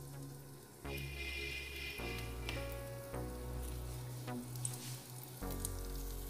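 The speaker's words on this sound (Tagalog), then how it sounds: "Magpiprito mo lang." Banana pancake batter frying in hot oil in a pot, a steady sizzle with a few soft pops and clinks running throughout, moderately close and fairly quiet, with no talk.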